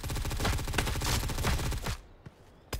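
Rapid automatic rifle fire with a 30-round magazine in the video game Blackhawk Rescue Mission 5, a loud sustained burst that stops abruptly, followed by a couple of isolated clicks and a final shot.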